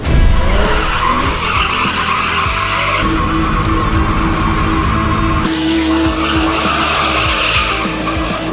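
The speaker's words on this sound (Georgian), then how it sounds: "პირველი უნდა გავაკეთო დონატი" A BMW drifting in tight donuts, its engine roaring steadily under long, loud tire squeal and skidding that runs nearly unbroken, with a brief shift in pitch partway through.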